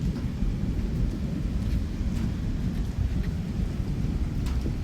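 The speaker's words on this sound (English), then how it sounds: "There was a tremendous thunder, lightning." Thunder rumbles through a night thunderstorm, a continuous low, loud roll with rain and wind buffeting the microphone, no voices.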